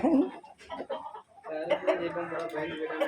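Roosters in a cockfight cluck and squawk in short bursts close by, mixed with excited crowd chatter and shouting voices throughout.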